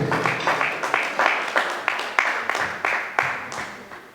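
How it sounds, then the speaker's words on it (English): A small group claps steadily for a few seconds at a high school English debate, the claps loud and close with a brisk, even rhythm. "Please give applause to Sarah."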